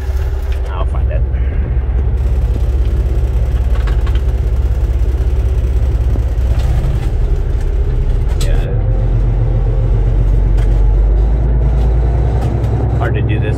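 Diesel engine of a 2010 Kenworth T660 sleeper truck with an 18-speed transmission, a loud steady low rumble while driving, with someone talking over it.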